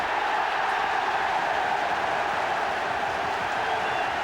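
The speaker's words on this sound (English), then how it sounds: "And the fans cheering" A football crowd at a 1983 First Division match roars and cheers after a penalty strikes the post, a dense, steady wash of distant voices sustained throughout without a break.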